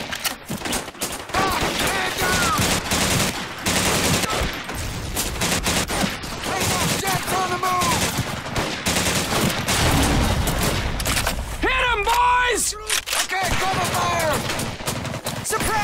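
Sustained suppressing gunfire in a WWII video game firefight, loud and nearly continuous bursts of rifle and machine-gun shots over about sixteen seconds, with shouting voices mixed in.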